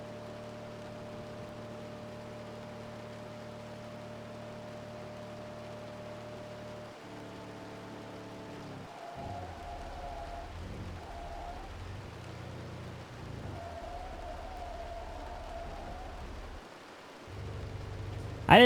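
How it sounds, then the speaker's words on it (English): Driving through hail and a thunderstorm in the Outbrk storm-chasing game: a faint, steady wash of rain and hail with low rumbling swells and shifting engine-like tones, fairly quiet overall. "All right, we're heading through the worst of the hail core, apparently."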